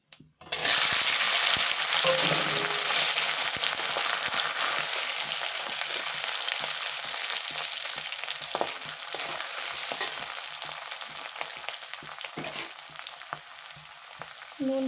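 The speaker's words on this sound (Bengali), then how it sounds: "ফোড়নটা একটু ভাজা ভাজা হলে আমি এর মধ্যে আলু দেবো আগে।" Potatoes frying in a pan with cumin tempering, a loud steady sizzle that starts abruptly and continues with stirring scrapes and small crackles throughout.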